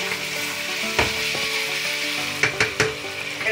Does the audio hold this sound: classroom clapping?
no